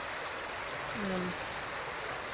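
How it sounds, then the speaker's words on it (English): Creek water swollen by spring snowmelt runs in a steady broadband rush on a farm, with a brief faint tonal sound in the middle and no talk. "the melt is starting, the water's starting to run faster and wider"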